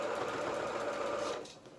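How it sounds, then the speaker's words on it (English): A sewing machine runs steadily, stitching a quarter-inch seam through boucle fabric for a small festive hat, boots and beard, its even motor whir winding down at the end with no talk. "I'm going to start at one side, and I'm sewing with the boucle up, first pin out and 1/4 inch seam allowance."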